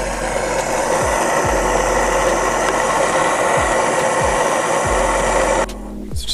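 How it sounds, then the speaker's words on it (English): An ordinary hardware-store handheld blowtorch heats a seized nut on a car bolt on a Toyota MR2 rear end. It gives a loud, steady close roar and hiss that cuts off near the end. "So the first thing I had to do was unseize the nut from the bolt. My handy blow torch here."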